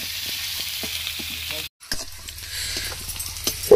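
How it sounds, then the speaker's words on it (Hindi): Onions sizzle steadily in hot oil in a pan as they fry toward light brown, a dense close hiss with small crackles and pops throughout and one brief drop-out partway. "पियाज पकेले पियाज को हल्का ब्राउन हो पर्यंत भाजवा"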